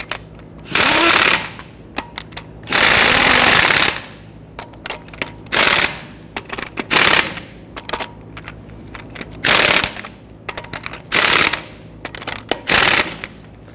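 Impact wrench tightening lug nuts on a 2010–2019 Ford Taurus wheel in a star pattern after a front wheel bearing and hub replacement: loud, close bursts of hammering rattle, two long runs and then many short blips with quiet gaps between.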